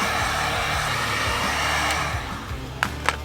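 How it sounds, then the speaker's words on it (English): Heat gun blowing hot air to dry metallic paint on a car bumper, a steady loud roar that fades toward the end, followed by a few sharp clicks. "we're gonna use our heat gun to dry it up"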